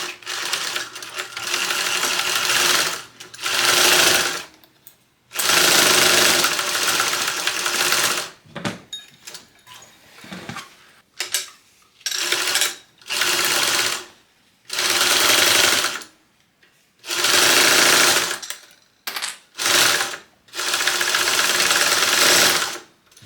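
A sewing machine runs in repeated bursts of a few seconds each, stitching side seams on a fabric Teresita train case at about a 1/8-inch seam allowance, with short pauses between runs and no talk.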